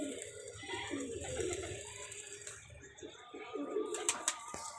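A pigeon coos in low, soft, rounded notes, repeated through a steady background hiss and rustle, close to the microphone.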